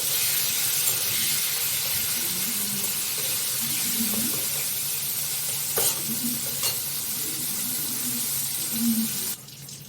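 Steady sizzling of bitter gourd frying in oil fills the whole stretch, with a few soft clinks of stirring and no talking.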